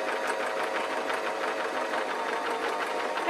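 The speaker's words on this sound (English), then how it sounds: "a great idea would be to have a little test sew on a scrap" A sewing machine test-stitching a scrap of gossamer netting fabric, a steady, close, even whirring hum with a fast stitching rhythm running throughout, alone and without talk.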